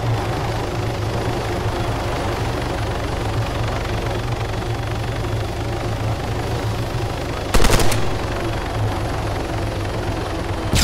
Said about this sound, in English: Chopper. Oh, chopper. Above the sea.